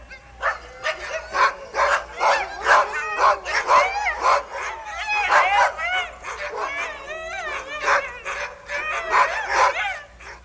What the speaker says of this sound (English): It was the dogs of Alaska that helped to open this land.